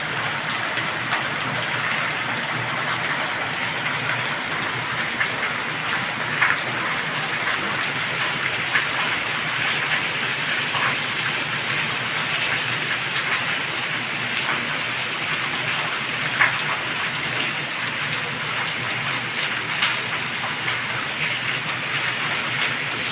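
Steady, dense monsoon downpour heard from indoors through a window, pouring continuously as a broad hiss, with occasional louder drops standing out, no voices.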